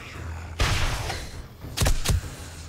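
A rocket explodes in the video game 7 Days to Die with one loud booming blast, then two sharp follow-up bangs in quick succession, close and punchy with no talk.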